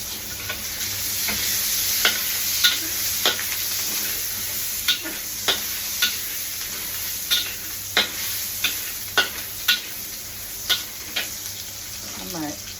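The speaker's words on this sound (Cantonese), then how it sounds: "呢度去爆。" Shallots and ginger stir-frying in a hot wok, a steady close sizzle broken by regular sharp scrapes and taps of the spatula against the metal.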